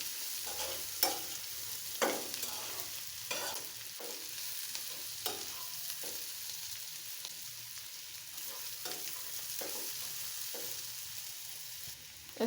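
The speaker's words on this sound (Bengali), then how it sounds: "এখন নেড়ে দেব।" A shrimp and bitter melon stir-fry with raw onion is stirred in a pan, giving repeated scraping strokes about once a second over a steady, soft sizzle. No voices.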